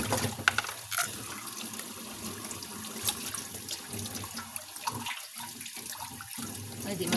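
Water runs steadily into a container, a continuous hiss and splash lasting several seconds with small clinks and splashes scattered through it, while a voice talks faintly underneath.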